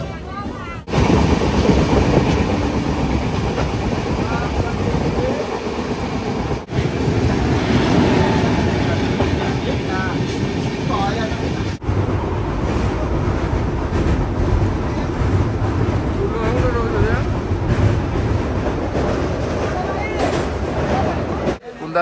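A passenger train runs along the rails near Balasore in India, a loud, steady rolling rumble with rattling carriages and rhythmic wheel clatter, and people talk over it.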